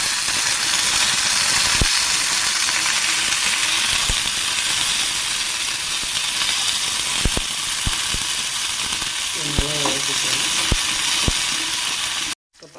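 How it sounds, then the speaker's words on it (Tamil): Small shallots sautéing in oil in a pan, a continuous broad sizzle and hiss with occasional sharp clicks and taps, close and steady with no talking. "இப்போ பாருங்கள், வெங்காயம் நல்லா வதங்கிடுச்சு."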